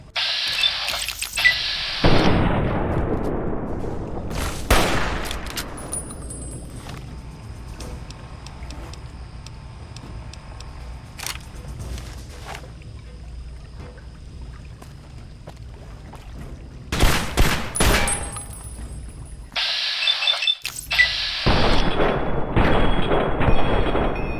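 Gunfire rings out in the Fallout: Tale of Two Wastelands video game: several loud, sharp bursts with decaying tails, spaced apart by quieter stretches of ambient background.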